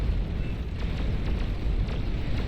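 Chained explosions of windmills in the Beyond All Reason strategy game, a dense rumbling roar with several sharp bursts cracking through it over a couple of seconds.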